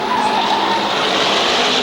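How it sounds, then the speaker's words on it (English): An SK Modified race car spins out on the front stretch at a short oval speedway, its tires skidding in one loud, sustained screech with no talking. "Ronnie Rocco goes around here on the front stretch"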